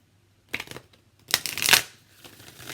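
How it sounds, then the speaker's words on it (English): Oracle cards being shuffled up close, a few quick riffling bursts with soft rustles and taps in between, no voices. "I want to shuffle it a little bit"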